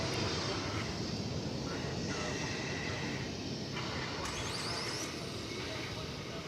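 Jet airliner engines roar steadily at a busy airport at night, a constant broadband rumble filling the whole stretch, with faint radio chatter and a brief whine near the end.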